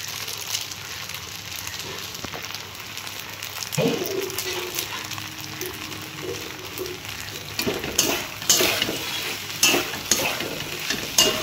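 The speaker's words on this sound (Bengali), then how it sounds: "এটা এখন ভালো করে সুন্দর করে একটু নাড়াচাড়া করব।" Maggi noodles with masala sizzle and fry in a pan while being stirred, a steady close crackle broken by scraping stirs and soft clinks of the utensil against the pan.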